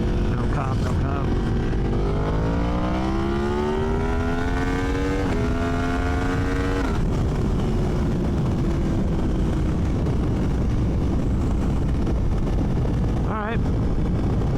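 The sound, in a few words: motorcycle riding at high speed with wind noise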